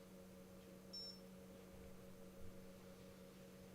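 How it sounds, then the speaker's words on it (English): A single short electronic beep sounds faintly from a computer setup, over a steady low electrical hum. "Something beeped in here."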